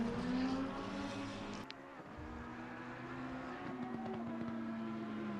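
GT race car engines in Assetto Corsa Competizione at Monza, one steady high engine drone holding pitch, a sharp gear-change drop partway through, then a slightly lower sustained tone with faint rival cars close by, no talk.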